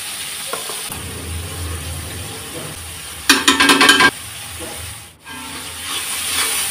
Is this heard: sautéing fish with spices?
yes